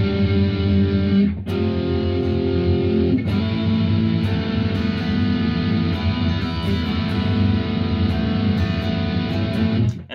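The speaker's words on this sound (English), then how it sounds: "this is where he starts kicking in the distortion pedal. So he turns it on and he plays the same chord" Electric guitar chord through a distortion pedal, played in a song, rings out loud and sustained, briefly cut twice early on before holding steady to the end.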